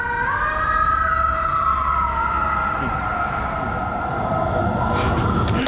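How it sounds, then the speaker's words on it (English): A siren wails loudly over steady road noise, its pitch sweeping down as it passes close by, with a brief burst of hiss near the end. "Meanwhile, siren goes past."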